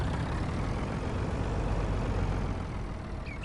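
Tractor engine in Farming Simulator 19 heard in its quieter mode, a steady low rumble droning evenly throughout, with no talk.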